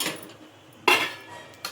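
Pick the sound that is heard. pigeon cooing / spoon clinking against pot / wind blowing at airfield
spoon clinking against pot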